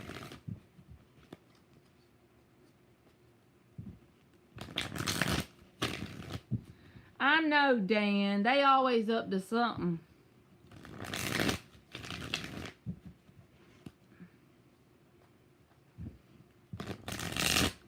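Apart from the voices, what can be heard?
shuffling tarot cards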